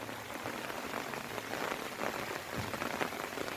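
Rain falls steadily onto surfaces, a soft, even patter of drops that continues throughout, fairly faint and with no voices over it.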